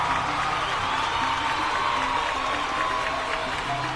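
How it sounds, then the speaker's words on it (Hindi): A crowd at an agricultural product event cheers and claps, a lively mix of shouts, whoops and applause under a sustained tone, with voices calling out throughout. "इसलिए आपके लिए एक बार जोरदार तालियां बजाइए।"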